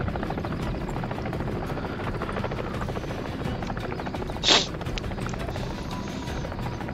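A helicopter in the video game Call of Duty Modern Warfare gives off a steady rotor thump and whine throughout, with a short sharp impact or burst near the middle and no voices.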